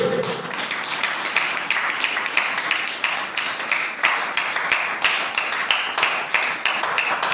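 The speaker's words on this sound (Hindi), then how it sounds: "ताली बजा के परमेश्वर का धन्यवाद करें" A church congregation at Sunday worship claps in unison to thank God, a steady, rapid rhythm of many hands close and fairly loud throughout, with no voices over it.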